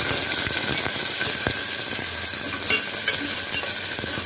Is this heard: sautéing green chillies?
yes